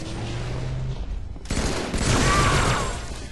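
Gunshots ring out in a team doubles shooter video game match: a quiet stretch, then a sudden loud burst of rapid fire that sustains as a dense volley.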